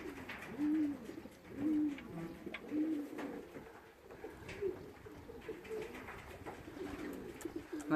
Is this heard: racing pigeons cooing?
yes